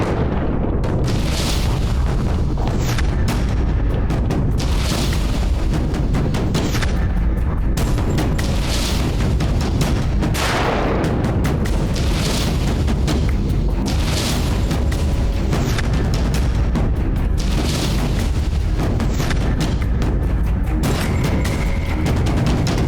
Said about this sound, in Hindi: प्रथम धमाका।